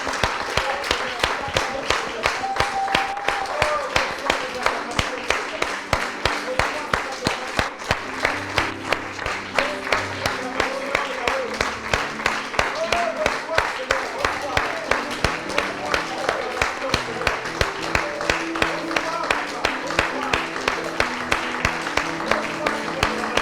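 Church congregation clapping in a steady rhythmic beat for over twenty seconds, a dense roomful of hands with voices and cheers mixed in.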